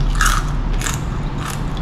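Crisp bites into crunchy roasted lechon belly pork skin, three close crackling crunches in quick succession with no talk.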